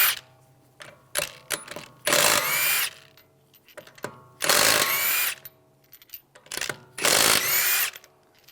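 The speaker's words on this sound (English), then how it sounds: "I'm going to remove the wheel, use a 19mm socket," Lug bolts on a 2013-2016 Dodge Dart rear wheel are removed with a 19mm socket, giving several loud bursts of rapid ratcheting interspersed with quieter clicks and handling noises.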